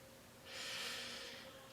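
One deep, steady inhale through the nose during kriya meditation breathing, faint and close, rising and holding for about a second in an otherwise quiet room.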